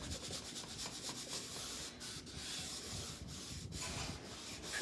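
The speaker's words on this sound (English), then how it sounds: "I need to go ahead and wax the surface because we did paint it" Wax is rubbed across a painted sparkle sign surface with an applicator, producing soft, continuous back-and-forth scrubbing strokes, close up and fairly quiet, with no talking.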